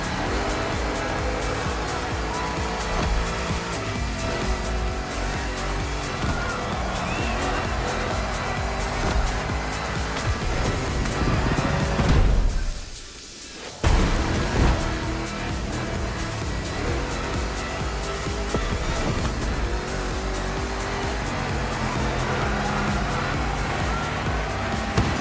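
Oversized Ford Mustang GT racing over two laps in The Crew Motorfest, a loud steady engine drone with tire and gravel noise that cuts out briefly around a jump, then roars back.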